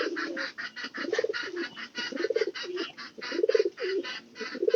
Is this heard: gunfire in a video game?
no